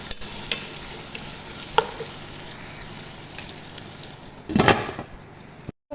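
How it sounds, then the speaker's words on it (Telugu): Onions added to hot oil and fried for chicken machboos, a soft steady sizzle under occasional spatula taps and scrapes, with a louder clattering burst of stirring toward the end before it cuts off. "ఇవి ఫ్రై అయిన తర్వాత ఉల్లిపాయలు కూడా వేసేసి మగ్గనిద్దామండి."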